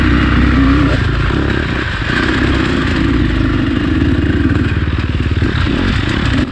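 A KTM 300 two-stroke dirt bike runs while being ridden, its engine loud and close with a rattling, throttle-varying drone and some clatter throughout.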